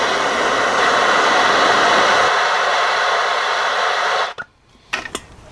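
A torch roars steadily and loudly at close range while heating a rusty bolt on the front end of a Jeep XJ, then cuts off abruptly, followed by a few short metallic clicks and knocks.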